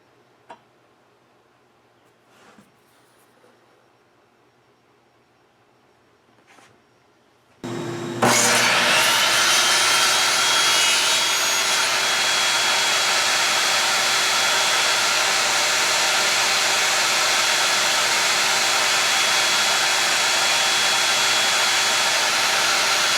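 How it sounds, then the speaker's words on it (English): A power saw makes a cleaning cut on the end of a stock block: near quiet with a few small knocks, then the motor starts abruptly and keeps up a loud, steady whine through to the end. "I'm going to first take a cleaning cut just to smooth this end off a little bit"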